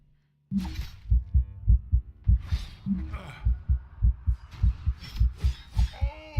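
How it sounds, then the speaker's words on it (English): A game heartbeat pounds at low health in the online RPG Rift, with close, loud, evenly paced double thumps that run throughout, and a voice is heard faintly in places. "You can hear the heart beating."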